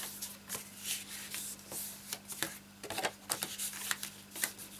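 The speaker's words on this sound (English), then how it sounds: "Now we can fold on all our score lines." Crisp papery creases and rubbing strokes as scored cardstock for a Poppin box and tray is folded along its score lines, a run of close, moderately loud crackles and swipes over a steady low hum.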